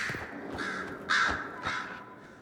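Crows caw in the fantasy video game Dragon Age: Inquisition, with three or four loud, harsh calls spaced close together over faint background ambience.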